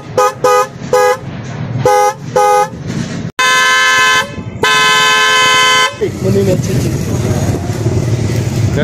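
Car horns honk repeatedly on a busy street in Sukkur, Sindh: short stuttering toots, then two long loud blasts, followed by traffic rumble with voices talking underneath.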